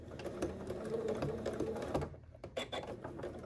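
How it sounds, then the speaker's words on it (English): Sewing machine running steadily to stitch the outer fabric of a pencil case with a 1/4 inch seam, a close continuous mechanical whir for about two seconds, then stopping, followed by a few light clicks and handling sounds. "I'm going to use a 1/4 inch seam allowance just to stitch the outer fabric."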